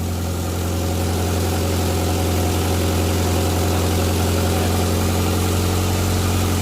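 A 1959 Morris Minor Traveller woody station wagon engine idling inside a garage, a loud, steady, close mechanical drone with constant vibration and no voices.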